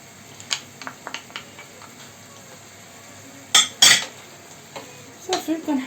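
A utensil stirs chicken, sauce and mushrooms in a pan, giving scattered scrapes and a few sharp metallic clinks over a faint background sizzle.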